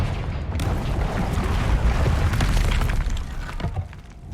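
Bombarda and Confringo spell explosions in the Hogwarts Legacy video game, a continuous roar of booming blasts and shattering debris that stays loud throughout before easing slightly near the end.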